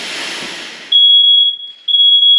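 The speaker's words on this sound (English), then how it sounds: "We've got a fire alarm." A smoke alarm goes off in a room filled with fog during mold treatment, sounding loud, piercing, steady tones in two long bursts separated by a short dip, after a fading hiss.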